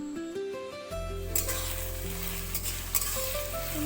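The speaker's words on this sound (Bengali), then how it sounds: "চপ করা পেঁয়াজগুলো দিয়ে দিচ্ছি।" Chopped onions dropped into hot oil tempered with nigella seeds and green chillies, a sudden burst into loud steady sizzling after a moment of quieter background, with a few scraping stirs, close and alone.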